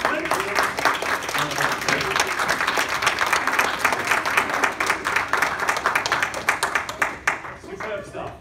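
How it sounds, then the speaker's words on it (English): Lively round of applause from an audience at a live-streamed event, dense clapping throughout that thins out and fades toward the end, loud and close. "Round of applause, please."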